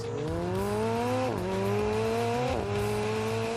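A McLaren 720S accelerates hard, its engine note climbing steadily and loud, broken by two quick upshifts that drop the pitch before it rises again.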